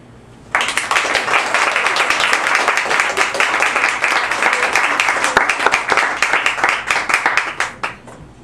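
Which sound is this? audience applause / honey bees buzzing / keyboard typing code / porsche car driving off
audience applause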